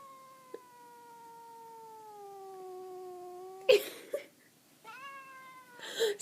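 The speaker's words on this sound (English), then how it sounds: "He's sitting here growling in case you guys didn't hear that." A pet cat growling in a long, drawn-out tonal moan that slowly sinks in pitch, broken by rustling and handling noises before a second rising growl, close and fairly quiet.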